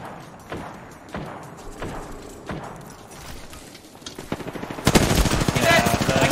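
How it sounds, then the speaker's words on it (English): Gunfire in the online shooter Apex Legends, a series of spaced single shots followed by a dense burst of rapid automatic fire, loud and close, with faint voices underneath. "The other team is shooting at you."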